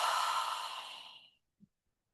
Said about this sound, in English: you can start by imagining you're exhaling and fogging up glass.